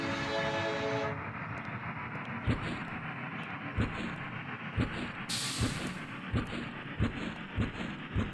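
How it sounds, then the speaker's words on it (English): A train rumbles and clatters steadily, with rhythmic wheel thumps over rail joints and a brief high hiss or whistle burst partway through, heard without voices. "Hurry up, the train's about to leave."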